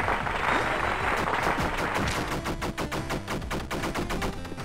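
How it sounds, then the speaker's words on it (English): Rapid video-game gunfire from DLC Quest plays as a fast string of sharp, evenly spaced shots, loud and continuous with no voices. "I got a gun with limitless ammo!"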